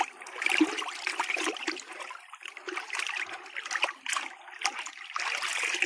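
A thick molasses and urea mixture for cow feed stirred steadily by hand, giving continuous wet sloshing and gloopy splashing, close up, with no talking.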